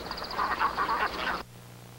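Ducks in a flooded rice field quack in a quick run of nasal calls, fairly close and loud, then break off abruptly into quiet background.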